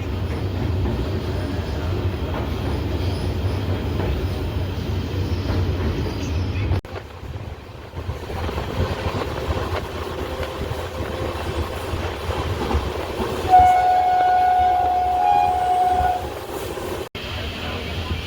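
The West Coast Express train in India rumbles along steadily with a loud, continuous rolling drone, then a sustained horn tone sounds for a few seconds before the noise cuts sharply near the end.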